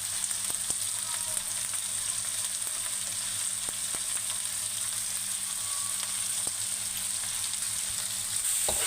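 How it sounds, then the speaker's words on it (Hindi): Cabbage stir-fried with the masala packet from Maggi noodles: a constant close sizzle of frying with occasional light clicks of stirring, steady and moderately loud, no voices. "इसका अपना मसाला डाल के इसको हमने बस स्टिर फ्राई करना है, ज़्यादा नहीं भूनना।"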